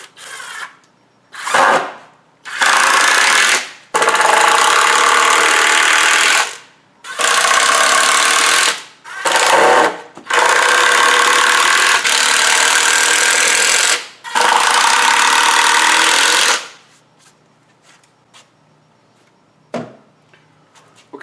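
Power driver sinking long screws into a blacksmith leg vise stand: several loud, close bursts of whirring, each lasting one to a few seconds and separated by short pauses, then quiet with faint handling noises.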